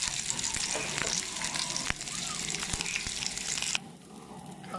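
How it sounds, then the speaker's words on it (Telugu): Egg-dipped bread fries in oil on a flat pan with a steady, dense sizzle and crackle, marked by a few sharp clicks and spatters before the sound drops slightly near the end. "ఆ తర్వాత మన ఎగ్ సొనలో డిప్ చేసి బ్రెడ్ని అలా వేసుకోవాలి ఫ్రెండ్స్ పెనం మీద."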